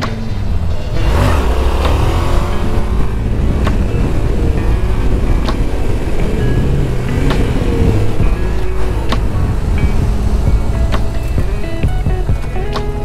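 A Yamaha XSR700 motorcycle on a cold fall day roars continuously at close range through a wheelie attempt, its engine note rising and falling with throttle under steady wind buffeting.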